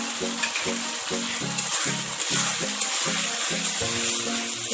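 Ginger garlic paste and onions fry for a mutton and potato curry, a steady loud sizzle running throughout with rhythmic stirring scrapes against the pan.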